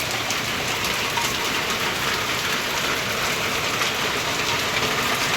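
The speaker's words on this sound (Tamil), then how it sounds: "எவ்வளோ அழகாக வந்துட்டுருக்கு பாருங்களேன் மழை" Constant rainfall in Odisha drums down in a thick, even roar, close and loud throughout, with nothing else audible.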